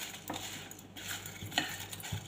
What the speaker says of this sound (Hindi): इसको हम थोड़ा सा भून लेते हैं